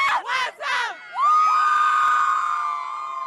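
High school cheerleaders shout a short chant in unison during halftime of a basketball game between Madison West and Madison Memorial, then a crowd breaks into loud, sustained cheering and whooping.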